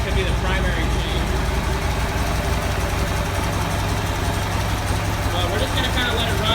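Buell XB12R motorcycle engine idling steadily with seafoam added, a constant low rumble running throughout without pause.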